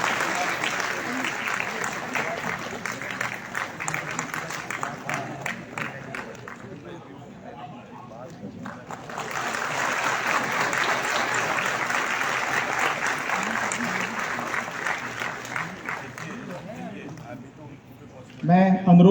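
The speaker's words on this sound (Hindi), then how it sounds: "जोरदार तालियों के साथ स्वागत होना चाहिए।" A crowd at a community crafts unveiling event applauds to welcome a guest, sustained loud clapping that dips briefly midway, swells again and fades near the end.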